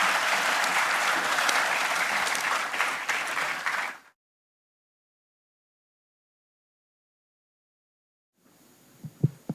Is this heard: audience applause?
yes